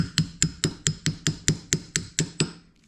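Ten quick metallic taps in even rhythm as a socket drives a rubber gearbox boot into place on a 1952 barn door ambulance, close and crisp, fading out at the end.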